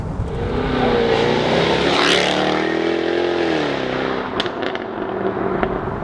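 A Jaguar F-Type V8 S sports car roars loudly through its exhaust, a sustained engine drone rising and falling in pitch with sharp crackles near the end, alone without talk.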